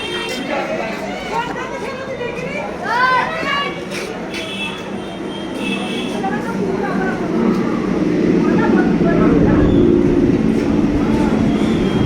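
A train rumbles steadily as it arrives at Bally station, its low roar swelling louder over time, with voices and squealing metallic tones mixed in.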